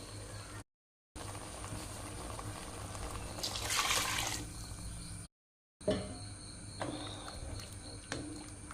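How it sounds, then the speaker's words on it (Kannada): Masala frying in a pan with a rush of water poured in, the hiss swelling then settling into a low sizzle, without speech. "ಇದು ಇವಾಗ ಒಂದು ತ್ರೀ ಮಿನಿಟ್ಸ್ ಫ್ರೈ ಮಾಡಿದೆ ಸಾಕು ಇದಕ್ಕೆ ನೀರು ಹಾಕಿ ತೆಳು ಮಾಡ್ತೇನೆ"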